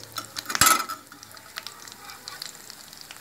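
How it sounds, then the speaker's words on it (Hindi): Potato cutlets (aloo tikki) dipped in batter go into hot oil in a pan and fry with a soft, steady sizzle, with a sharper clatter of a utensil against the pan near the start. "मैंने कटलेट्स को फ्राई करने के लिए डाल दिया है। मैंने ऑयल में, पैन में ऑयल को गर्म किया था"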